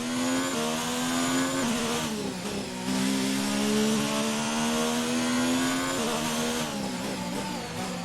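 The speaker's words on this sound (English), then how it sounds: "They completely changed the engine this year. Oh yeah, they sound a lot different compared to last year." Race car engine from the F1 2019 video game, a high-pitched whine that revs up and drops with several gear shifts and throttle changes, loud and steady throughout with no talking.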